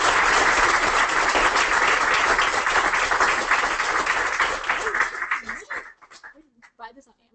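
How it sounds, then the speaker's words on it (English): An audience applauds at a talk on fracking and health, with dense sustained clapping that fades out over the last couple of seconds, leaving a few scattered claps and some voices. "give her one more round of applause."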